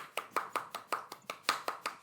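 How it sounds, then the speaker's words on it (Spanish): Steady, evenly spaced claps ring out over microphones, a sharp beat roughly every fifth of a second, as the audience at a literature and psychoanalysis panel event applauds the panelists. "Abrimos los micrófonos y aplaudimos a nuestros panelistas de hoy"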